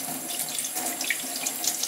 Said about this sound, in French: Donc bien entendu bien les rincer pour pas qu'il reste de mousse dedans